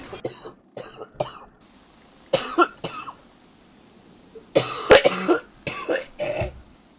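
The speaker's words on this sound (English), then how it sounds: "This cough is awful." A person coughs in a series of harsh, loud bursts, with short pauses between them that then close up into a heavier run of hacking coughs near the end.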